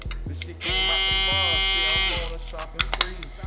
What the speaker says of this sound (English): these are my Babyliss Pro Full Shaver Gold FX